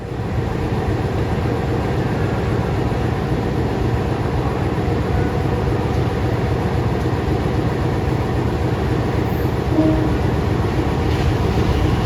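A Logawa passenger train with premium economy coaches runs steadily on rails nearby, a loud continuous rumble with faint rhythmic clacking and no voices.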